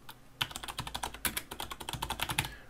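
Quick, uneven keystrokes clatter on a computer keyboard up close, a dense burst of typing with no voices.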